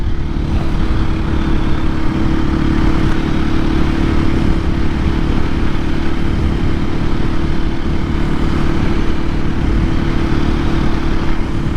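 A 2024 KTM EXC-F 500 Six Days dual sport motorcycle rides steadily on the road, its engine a loud, constant low drone mixed with wind rush throughout, with no speech.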